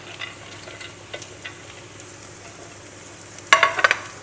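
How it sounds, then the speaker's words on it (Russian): Nuts frying in a pan for Armenian pilaf give a soft, steady sizzle, broken near the end by a few sharp scraping clatters of stirring. "И вот так вот обжариваем в течение 3-5 минут."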